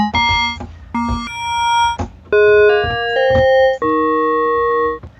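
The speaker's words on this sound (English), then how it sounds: "we can create bell sounds super easily" A sequence of bright, ringing FM-synthesized bell tones with metallic overtones, played as separate struck notes at varying pitches, loud and clear.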